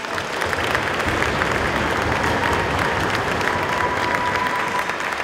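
Sustained, even applause from a concert audience greets a clarinetist at a Christmas carol concert held in the Old Mine, a dense continuous wash of clapping at steady volume throughout, with no voices standing out.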